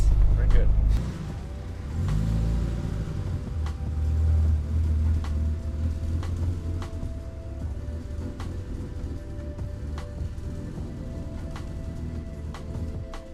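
A BMW E32 on a test drive after a clutch slave and master cylinder replacement, with its low engine rumble running steadily throughout. Faint clicks sit over the drone and there is no clear talk.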